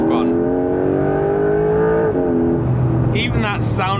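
Porsche 911 GTS T-Hybrid engine revs hard and climbs steadily in pitch, a loud in-cabin howl that drops at a gear change and then picks up again.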